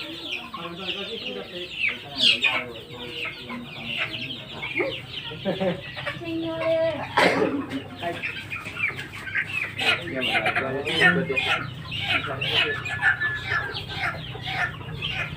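Several chickens cluck and squawk close by in a lively, continuous jumble, with a rooster-like call rising among them and people talking over the birds.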